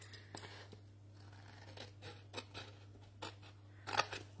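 Scissors cut a card box along its fold line, giving a run of quiet, close snips with a sharper cut near the end, no voices.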